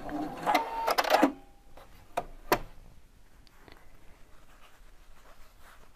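An Opal 670 sewing machine stitching a lavender bag runs in a short rapid burst of about a second, followed by a few isolated clicks and quiet handling.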